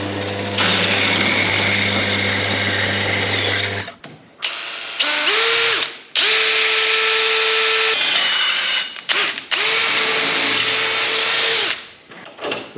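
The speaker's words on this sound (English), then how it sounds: "we'll cross drill the bolt" A steel bolt is cross drilled with a power drill in a farm workshop, giving a loud, close, steady whine that runs in three long bursts with short pauses between, after a noisier opening stretch of machine hum.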